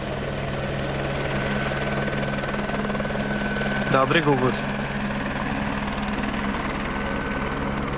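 A helicopter descends to land in Norway, its rotor and engine making a steady, loud drone that holds throughout, with a voice speaking briefly over it midway.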